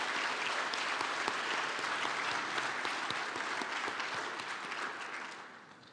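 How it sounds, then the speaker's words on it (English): Audience at a TiECon Canada 2017 conference evening claps in steady, dense applause that carries on for several seconds and gradually tapers off. "please join me in giving a round of applause to TiE"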